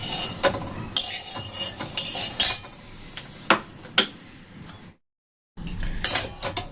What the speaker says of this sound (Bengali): বাদামগুলো ঢেলে নেব।